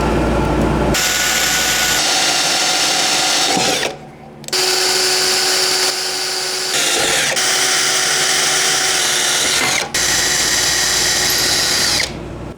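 A loud power drill whines steadily, pausing briefly a few times before spinning up again, with no talking, drilling a hole during maintenance on a Massey Ferguson MF35 tractor.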